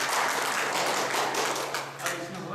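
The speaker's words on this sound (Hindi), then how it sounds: "इनके लिए तालियां बजाइए।" Audience applause at an indoor Panchkoshi Sadhana session, a dense, steady wash of clapping lasting a couple of seconds, loud and close.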